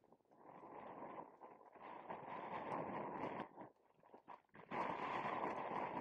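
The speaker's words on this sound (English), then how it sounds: "That wind is absolutely rife out there today." Strong, icy wind buffets the microphone at an outdoor amateur football match, a continuous loud rumbling roar that surges and dips, briefly easing before gusting hard again.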